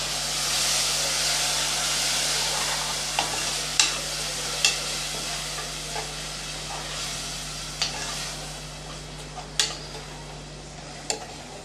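Chopped tomatoes sautéing in a pan for tomato rice, a steady soft sizzle with repeated sharp scrapes and clicks of a spoon stirring, close and alone over a faint hum.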